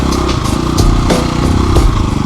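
A motorcycle rides through desert terrain, its engine loud and close with a rough, chugging note. Sharp throttle blips and surges come every half second or so.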